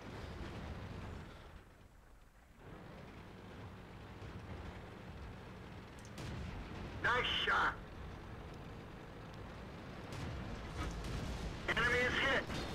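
Tank cannon shots in World of Tanks, two sharp bright bursts a few seconds apart, the second near the end, over a constant low game rumble with commentary running through.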